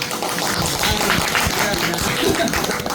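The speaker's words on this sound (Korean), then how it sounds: "박수 한번 주시죠" An audience claps at a village revitalization casebook presentation, a steady patter of many hands continuing throughout at moderate loudness.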